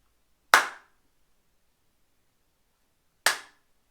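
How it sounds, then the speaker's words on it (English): Two single sharp hand claps, spaced about three seconds apart, crisp and close with a quick decay and silence between them. "Let's see if you can clap along with me."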